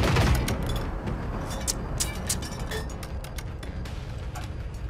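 Rapid gunfire from hostile robots in the open-world shooter Generation Zero, a dense stream of sharp cracks and bursts with rumbling combat noise under it, loud and steady throughout.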